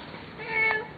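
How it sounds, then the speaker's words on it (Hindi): A cat gives a single short, fairly faint meow that rises and falls within about a second against quiet background hiss. "ये वही शाम वाली बिल्ली है"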